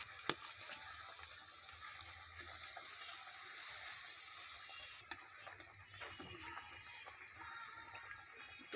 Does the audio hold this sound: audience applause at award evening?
no